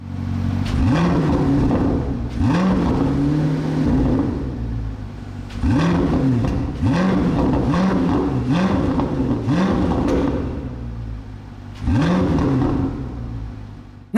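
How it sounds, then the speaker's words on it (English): The flat-plane-crank V8 of a 2025 Chevrolet Corvette C8 ZR1 barks through a series of sharp, loud revs, each rising and falling quickly with short pauses between, heard close and alone. "This massive and massively cool flat plane crank V8. It sounds special."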